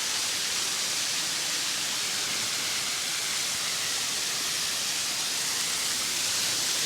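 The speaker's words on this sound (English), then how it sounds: "You come to this last waterfall." Waterfall on a creek in Victoria's high country, a loud, unbroken rushing roar of falling water that stays constant throughout with no voices.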